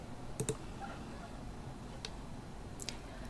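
A few quiet, sharp mouse clicks land on an OK button in a computer program, spaced apart over a soft, steady room hiss.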